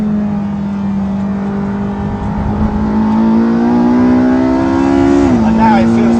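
A Porsche 918 Spyder in hot laps mode accelerates hard from inside the cabin, its engine note climbing steadily and loudly before a quick shift drops the pitch near the end.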